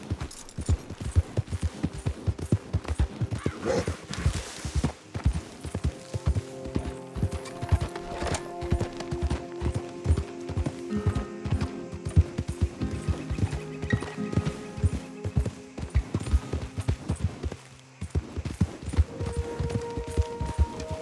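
Horse hooves clip-clopping in Red Dead Redemption 2, a steady rapid gait with an occasional whinny, background music tones underneath.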